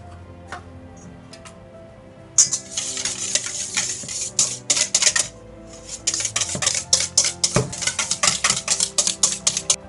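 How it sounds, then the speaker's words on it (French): Soy yogurt and oil being whisked in a bowl for a lemon cake, a quiet start followed by fast rhythmic clinking and scraping strokes of the whisk, close and loud, with no talk. "on va déjà fouetter le soja, les yaourts de soja avec l'huile"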